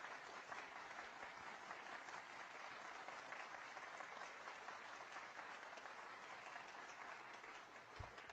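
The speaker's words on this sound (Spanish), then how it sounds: "El aplauso es largo" Long, steady applause from a conference audience fills the whole stretch, a dense even wash of many hands clapping at a moderate distance with no pauses.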